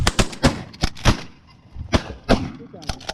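A rapid volley of sharp, close shotgun blasts rings out during an early-season goose hunt, several shots in quick succession followed by a brief pause and more shots, with excited voices shouting among them.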